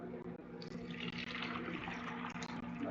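Meatball stew liquid poured carefully from a pot through a strainer, a continuous close splashing stream of liquid with faint gurgles, steady and fairly quiet throughout.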